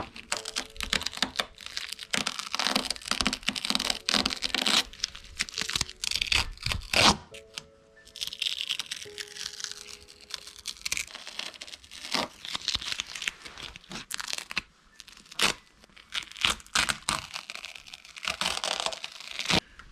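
Masking tape is torn off the roll and pressed onto a 600HP Volkswagen Golf R while an Oettinger spoiler is fitted: repeated crinkling and sharp tearing bursts, close and fairly loud, with brief pauses and a few faint tonal squeaks.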